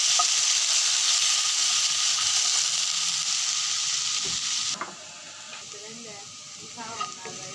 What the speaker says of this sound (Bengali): আলু হালকা করে ভেজে নিব।